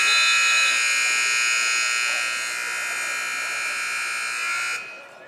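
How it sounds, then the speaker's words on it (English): A long, loud electronic buzzer sounds at a high school wrestling championship match, holding steady for several seconds before cutting off abruptly near the end. "Buzzer's going a little bit too long for my liking."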